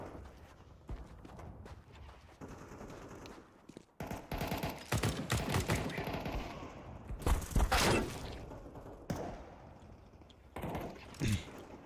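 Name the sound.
sniper rifle gunshots in a video game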